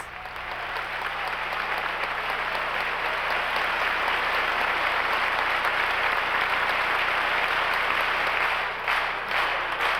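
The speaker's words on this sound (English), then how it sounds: "The applause that followed lasted for about 8 minutes." Sustained, thick audience applause after a Swiss concert performance, a loud unbroken wash of many clapping hands that holds steady throughout.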